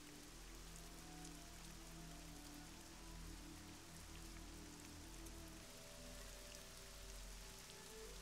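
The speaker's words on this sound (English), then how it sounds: "It's a little wet out here. I don't mind. No one should mind the rain." Steady rain falls throughout a Nancy Drew adventure game scene in Legend of the Crystal Skull, a constant even patter with a low ambient hum beneath it and no voices.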